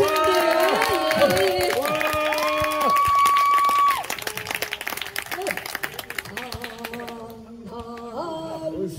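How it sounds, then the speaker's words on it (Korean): A crowd at a Korean Baekjung folk performance with Ganggangsullae breaks into clapping and cheering, mixed under loud musical tones and voices. The applause thins out partway through. "큰 박수 부탁드리겠습니다"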